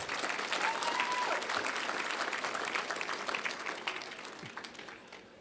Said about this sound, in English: Yeah, you can clap again.